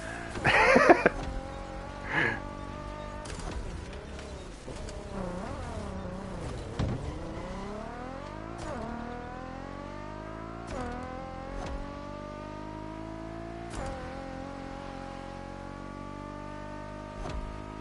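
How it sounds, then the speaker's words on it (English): Rally car driven in the racing video game The Crew Motorfest, its engine revving up and down steadily with shifting pitch throughout, a brief louder burst at the start and occasional sharp clicks, with no talking. "I can actually race this like an actual rally car too."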